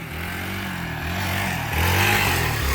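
Motorcycle engine revving hard as a rider accelerates into a wheelie, a loud steady near roar that climbs in pitch and intensity toward the end, with no talk over it.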